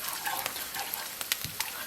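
Dill being stirred into a thin mushroom sauce for vegetarian mushroom kotletai: soft scraping and light clicks of a utensil over a faint sizzle, close and quiet, with no talking.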